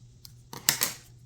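Scissors make a few quick, faint snips while trimming a piece of card stock for an easel card, close and quiet with no talking.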